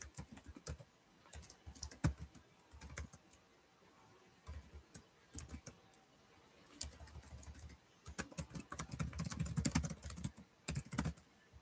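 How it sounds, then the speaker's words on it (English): Typing on a computer keyboard, close and quiet, in irregular bursts of rapid clicking keystrokes separated by short pauses. "as I'm just typing here"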